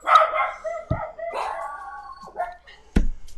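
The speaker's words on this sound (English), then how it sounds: "One dog barks, they all bark." Several dogs bark outdoors in short, sharp bursts scattered across the moment, with a loud thud-like bark near the start and end and quieter yips between, mixed with some background voices.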